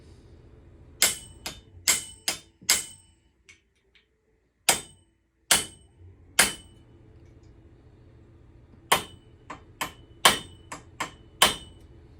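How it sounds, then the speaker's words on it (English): A steel pin punch struck with a hammer to mark pin holes on knife handles: about fourteen sharp, ringing metallic taps in short bursts of two to four, with brief silent pauses between groups and no talking. "I'm gonna take a 3/16 or 1/8 inch punch, and we'll do our pins for our knives"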